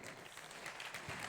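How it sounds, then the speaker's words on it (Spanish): Audience at a conference session clapping, a brief, dense patter of applause from a crowd, quiet and distant. "Conchita Díaz, un fuerte aplauso para ella."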